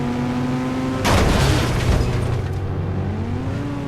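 A vehicle crash in the Indian Bike Driving 3D video game hits as a sudden loud booming impact over a steady game engine drone, with a crunching burst lasting about a second before the engine hum settles back in.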